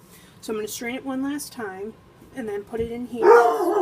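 A dog barks in a kitchen in several sharp, close bursts, mixed in with a person talking while preparing rice for sushi.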